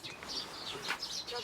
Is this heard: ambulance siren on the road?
no